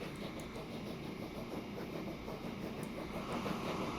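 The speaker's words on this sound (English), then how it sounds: "And we wait for the train." A train running in the Transport Fever 2 game, a continuous low rumbling rail noise with a faint rhythmic clatter, steady and fairly quiet, no talking.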